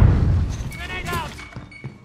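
A grenade thrown in the video game Modern Warfare 2019 lands with a heavy thud and a brief crackling burst, mixed with a voice and game noise.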